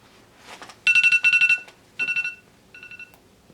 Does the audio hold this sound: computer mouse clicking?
no